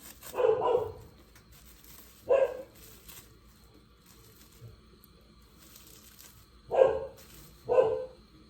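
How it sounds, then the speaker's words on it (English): Several dogs bark in short separate bursts, two early and two close together near the end, at moderate distance with quiet pauses between. "let's go see what the dogs are barking at"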